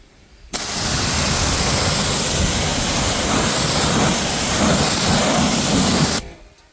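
Steady, loud water spray rinses a car tire and wheel, a continuous hissing rush that lasts nearly six seconds before cutting off sharply.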